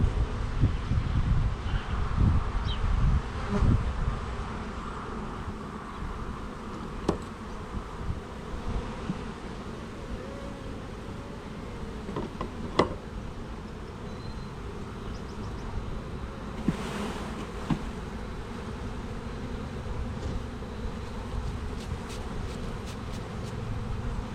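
Dense, steady buzzing of many honeybees swarming close by a hive, a continuous insect drone with occasional faint rustling and bumps.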